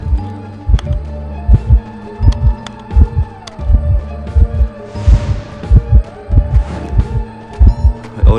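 Heartbeat sound effect in the video game Identity V, a loud repeating double-thump pulse with a low hum and scattered game tones behind it, no talk.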